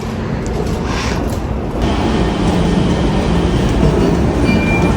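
An airport's internal metro train pulls in with a loud, steady rumble of wheels on rails that swells slightly as it arrives, with no talking.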